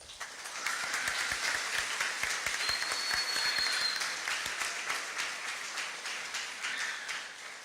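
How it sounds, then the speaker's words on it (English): Graduation audience applauding graduates' families, a dense sustained wash of many hands clapping from start to finish, steady and fairly loud with no speech over it. "How about a round of applause from you to your families?"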